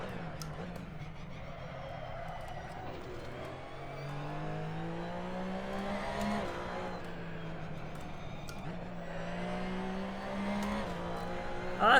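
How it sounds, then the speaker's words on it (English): A car engine in the racing video game Assetto Corsa hums and revs steadily, pitch rising and falling through gear changes, fairly quiet and continuous throughout. "I thought I could hear a car right next to us."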